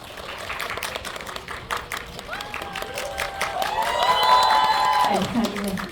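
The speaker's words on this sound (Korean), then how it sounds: "큰 박수 부탁드립니다" Audience applause with cheering for a director and actors taking their seats at a Korean film GV screening, steady crowd clapping under chatter with tonal background music rising midway.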